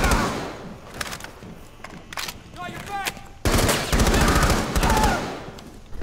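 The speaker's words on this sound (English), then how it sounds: "The FAMAS, its burst mode is really good." Burst-mode FAMAS rifle fire in Rainbow Six Siege during a Terrorist Hunt match on Consulate: loud clustered volleys of close gunshots, sparse early, then a dense sustained stretch of rapid fire in the second half.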